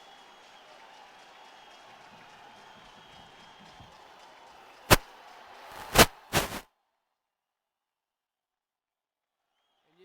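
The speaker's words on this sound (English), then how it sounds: "And this crowd is just buzzing." Judo world championship arena crowd in Astana, a steady murmur of buzzing spectators with scattered cheers, then three sharp loud bursts of applause or impacts before the hall falls silent.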